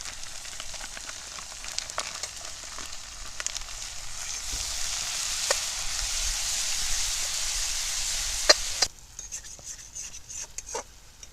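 Garlic paste fries in a pan for egg curry with a soft continuous sizzle and occasional faint clinks, the hiss cutting back sharply near the end.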